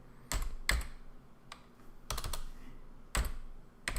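Computer keyboard typing comes in several short bursts of clicky keystrokes separated by brief pauses, close and clear with no talking.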